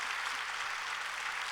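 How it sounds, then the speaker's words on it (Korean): A church congregation claps for their pastor, a steady, even wash of applause that stays soft and fairly distant for the whole moment. "우리 목사님께 한번 박수 한번 하겠습니다"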